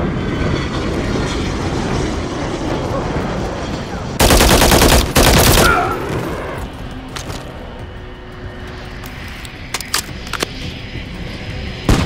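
A deep, droning VTOL aircraft engine in Call of Duty: Modern Warfare 3 (2023) rumbles loudly and steadily, broken by a burst of rapid gunfire and a few scattered shots.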